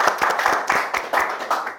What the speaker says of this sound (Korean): 비록 온라인이지만 감사의 큰 박수를 드리겠습니다.